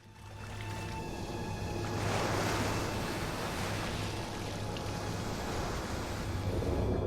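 Ocean waves wash onto an alien Earth shoreline in a sci-fi drama, a steady broad rushing surf that swells and holds loud and continuous, with a low droning hum underneath and no talk.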